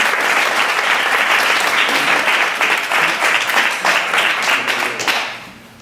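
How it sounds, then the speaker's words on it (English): A room of attendees at a conscious business meetup applauds a guest speaker, loud sustained clapping from many hands that tapers off near the end, with no talk. "So if you can please give a big round of applause to Bill Baren."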